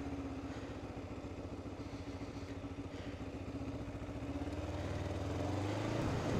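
A motorcycle idles with an even, low engine chug, then its revs build and the pitch rises as it pulls away, with no talking.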